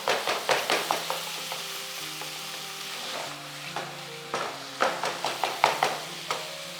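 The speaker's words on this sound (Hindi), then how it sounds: "कीमे की हो रही है बुनाई" Minced meat fries in cooking oil with onion, ginger and garlic, a steady sizzle broken by repeated loud scraping stirs in quick bursts, close and with no talking.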